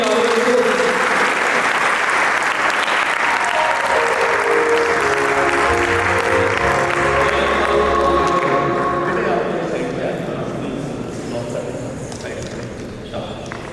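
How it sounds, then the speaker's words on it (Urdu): Guests at a nikkah ceremony applaud in a dense, steady roar of clapping with music playing underneath and voices mixed in, fading gradually over the last few seconds. "تالیاں ہو جائے پہلے"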